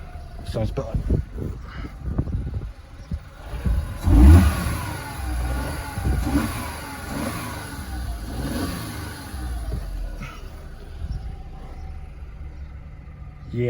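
A VW Polo 9n with an aftermarket air intake revs up sharply a few times and then drops back to a steady idle, heard close and clear while a voice talks over it.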